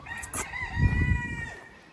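A rooster crows once nearby, a loud drawn-out call that rises and then trails off.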